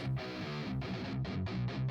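A thick, low, gritty symphonic metal guitar tone, pitch-shifted an octave down, plays a short run of notes, sounding deep and buzzy.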